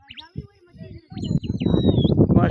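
Pigeons take flight at a pigeon-flying contest: a fluttering burst of wingbeats builds and continues, mixed with thin high chirps and whistles close by.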